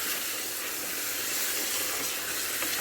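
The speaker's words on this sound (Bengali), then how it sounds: "এবার আমি তেলের মধ্যে মাংসগুলো দিয়ে দিচ্ছি।" Meat going into hot oil in a pan gives a dense, continuous loud sizzle and hiss, close and steady with no talking over it.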